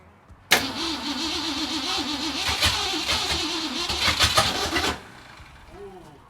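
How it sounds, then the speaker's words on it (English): A 1964 Mercury Cyclone cranks and catches with a sudden loud start, running rough and uneven for several seconds with sputtering bursts before cutting out, leaving quiet near-field shuffling. "I think we'll be ready to fire this thing up."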